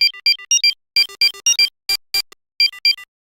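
Harsh, gritty bitcrushed synth beeps play the Kim Possible ringtone in a choppy pattern, short bursts separated by silences, sounding crunchy and degraded with added upper harmonic noise.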